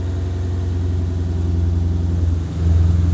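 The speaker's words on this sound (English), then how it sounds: "these turbos are spinning really nice" A twin-turbo Coyote V8 in a Mustang idling steadily with a deep, throbbing rumble, close and loud, dipping briefly then settling back to idle.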